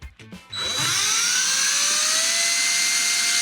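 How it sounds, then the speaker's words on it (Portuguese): An electric air blower bought from AliExpress starts up after a few clicks and spins up to a loud, steady high-pitched whine with a rising tone, then runs continuously. "Vou ligar aqui o meu soprador de ar"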